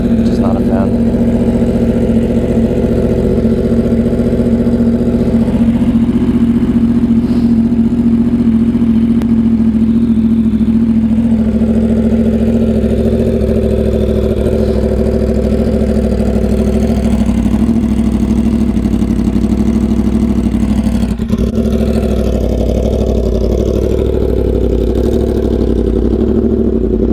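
A Yamaha R1 motorcycle idles steadily at night while warming up, a constant close engine hum with slight swells in pitch and no revving.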